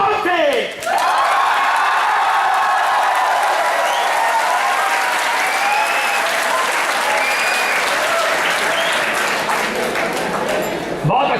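A large audience at a college old-students association gathering claps loudly and continuously, a thick, unbroken roar of applause with scattered whoops and faint voices mixed in, holding strong for over ten seconds.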